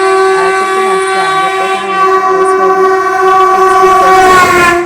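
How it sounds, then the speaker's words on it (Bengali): A train horn blares loud and sustained as a train pulls into Barrackpore station, a steady harmonic blast over a rumbling, clattering rail background. "এখনই আমাদের ট্রেন ঢুকবে"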